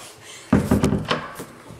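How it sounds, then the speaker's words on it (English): A school door swings shut with a heavy wooden thump, followed by a few rattling knocks as it settles, close and loud, with no talking over it. "someone did walk past, and the door slammed"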